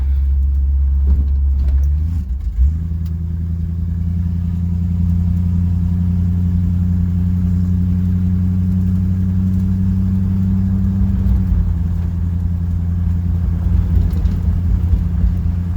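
A 1969 Dodge Polara nine-passenger wagon drives along with a deep, steady engine drone, loud and close from inside the car. Its pitch shifts briefly as it gets underway and changes again near the end, with no talk.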